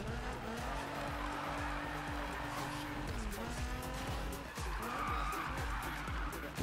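A Nissan GT-R R35 drifting in Need for Speed 2015 roars with revving engine and shifting pitch while its tires squeal and skid continuously, loud and close throughout.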